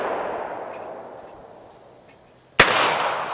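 A single sharp pistol shot rings out at a shooting range after a quiet stretch, followed by a loud, lingering echo.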